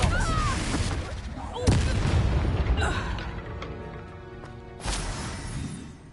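Spell effects in a Harry Potter video game: Incendio, Confringo and Expelliarmus fire off in rapid succession as loud booming bursts and crackles over a dense, continuous battle din.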